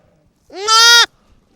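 A single loud, drawn-out bleat of a lamb, close by, rising then holding steady before cutting off, with quiet around it.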